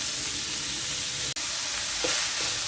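Picadillo frying in a pan with a steady, loud sizzle and hiss, broken once by a brief cut, with a few faint clinks of stirring near the end.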